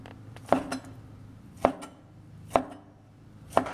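Knife chopping pork belly into pieces on a cutting board, four distinct, evenly spaced thuds about a second apart, close and clear with no talk.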